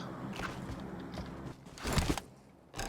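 Footsteps in a video game shooter during a live stream, a run of soft steps with a louder scuffing burst near the middle, heard alone without talk.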